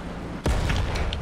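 A tank cannon fires in a video game battle against enemy tanks, one sharp heavy boom that cuts in suddenly and rolls on with a low rumble, preceded by steady background noise.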